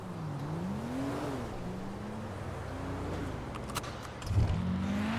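A car engine hums and revs up and down in smooth sweeps, ending with a louder burst of acceleration.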